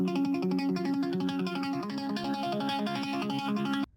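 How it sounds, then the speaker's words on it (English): Electric guitar through a dotted-eighth delay in a chorus section of a hip-hop, post-rock and drum-and-bass blend, playing a steady rippling run of echoing notes over a dense full mix for about four seconds, then cutting off abruptly. "So I added that dotted eighth guitar to the chorus."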